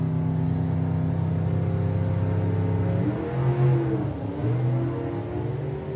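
A drag racing car at Bug Jam 2023 launches down the strip, its engine a loud, steady high roar that holds and then shifts pitch as it pulls away.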